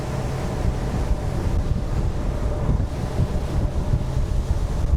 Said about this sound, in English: just expose a few different angles to the wind and the chop